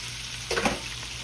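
Trout fillets sautéing in a pan give off a soft, steady sizzle that swells briefly as a piece is flipped, then settles back to a low hiss.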